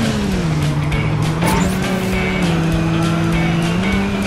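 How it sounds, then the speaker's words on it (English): Lightning McQueen's race car engine whines steadily in Cars 3: Driven to Win as it drifts through a turn, with sharp tire squeal and skidding layered over the loud, continuous motor drone. "Watch that drift through the turn"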